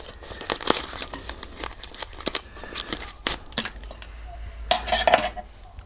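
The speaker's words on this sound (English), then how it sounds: "they have the tear notch to the side, although it doesn't tear as well as it should" A plastic ration packet from a 2018 Ukrainian 24-hour military ration is torn open at its side tear notch. The tearing gives several loud, close crinkling bursts with short pauses between them, and nobody speaks.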